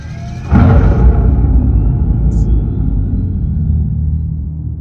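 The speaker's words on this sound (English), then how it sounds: "start up in regular mode." Dodge Charger Daytona EV with its Fratzonic exhaust chamber in regular mode, a synthetic engine sound starting up abruptly and settling into a steady low rumbling idle.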